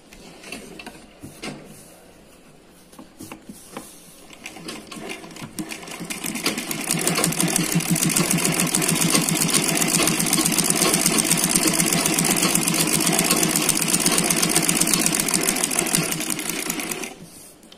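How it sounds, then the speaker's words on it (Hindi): A sewing machine runs a French seam, starting with a few short bursts and clicks, then stitching steadily for about ten seconds in a fast, even whirring rattle at close range before stopping. "इसके ऊपर सिलाई लगा देंगे।"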